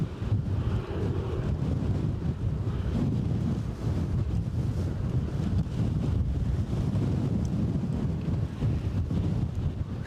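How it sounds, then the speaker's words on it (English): Strong wind buffeting a microphone outdoors at a plane-spotting spot in Edinburgh, Scotland, a loud, continuous low roar with gusty rumbling that never lets up, with no voices over it. "this wind is getting crackers"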